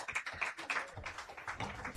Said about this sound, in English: A resounding round of applause for our moderator and the guest speaker.